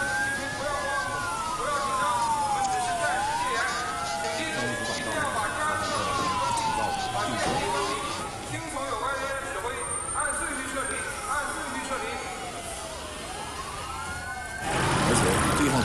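A wailing siren from an emergency vehicle, likely a police car, rises and falls in repeated sweeps throughout, loud and fairly close amid street noise, with a burst of broadband noise near the end.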